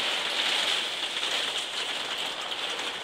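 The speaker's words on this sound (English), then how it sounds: "Damn rain." Heavy rain in the video game Shadow of the Tomb Raider falls in a dense, steady patter that rattles like rain on a tin roof and carries on evenly throughout, with no voices.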